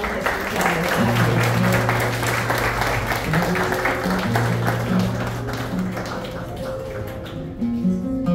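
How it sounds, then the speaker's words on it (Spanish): An audience applauds at the inauguration of a watercolour painting exhibition in an artists' quarter. Loose clapping runs alongside music with sustained tones, moderately loud and continuing for several seconds. "Ahora sí, un fuerte aplauso,"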